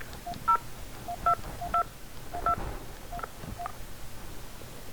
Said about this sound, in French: Merci de composer le premier groupe.